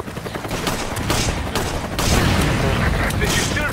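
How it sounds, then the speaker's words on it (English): Rapid bursts of video game gunfire from Resident Evil 5 versus mode crackle continuously for a few seconds, loud and dense, with a brief stronger volley midway. "Gunfire."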